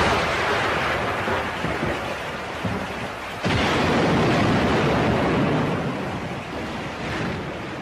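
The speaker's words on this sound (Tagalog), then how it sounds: "Alam mo, Jaime, kapag ganitong umuulan" Heavy rain in a storm pours down in a dense, continuous wash of noise with gusting wind, swelling louder partway through and holding steady.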